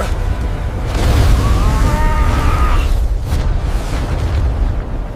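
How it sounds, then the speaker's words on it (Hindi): A loud, sustained explosive roar with a deep rumbling boom and a brief rising whine in the middle, fading slightly toward the end. "एक विस्फोट जिसने पूरे ब्रह्मांड को हिला दिया।"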